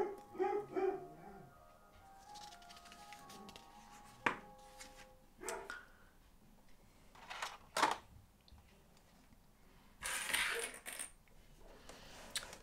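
An excited dog barks and yips in short separate bursts, some loud and close, others softer, with quiet pauses between them, greeting an ice cream van that has just arrived.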